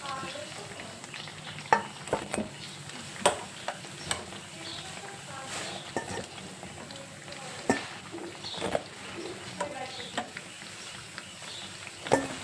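Crispy alasanda vadas (black-eyed pea fritters) fry in hot oil with a steady low sizzle, broken by sharp clicks and scrapes of a slotted spoon or utensil at intervals, close and fairly quiet with no talking.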